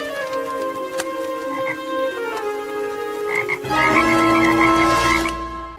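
Toads croaking in the Family Guy video game, a chorus of repeated bubbly croaks layered over a musical background, growing louder and denser toward the end with no talking.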